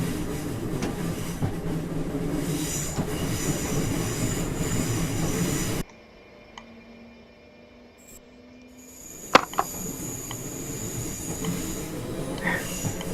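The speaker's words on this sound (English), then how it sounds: "The track sound here is hilarious." A Class 365 Networker train rumbles along the track with a steady rolling roar, then drops to quiet before wheel clicks and a sharp squeal return.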